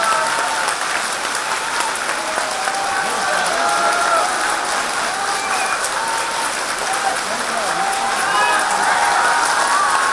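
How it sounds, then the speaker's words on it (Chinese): An audience at a book reader meeting and signing event applauds to welcome a Buddhist teacher onto the stage: a steady, dense wash of clapping from a large crowd that continues evenly throughout. "请大家给予热烈的掌声"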